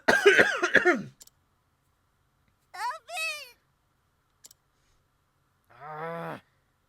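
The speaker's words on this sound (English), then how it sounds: "She's coughing so hard she can barely breathe." A character in the video game Octopath Traveler, a woman stricken with a rare disease, coughs in short harsh bursts with quiet gaps between them, the coughs sounding close and fairly faint.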